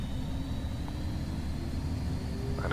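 Twin Learjet 35A jet engines held at takeoff power in a flight simulator: a steady, loud, low roar with a faint high whine running through it, with no letup.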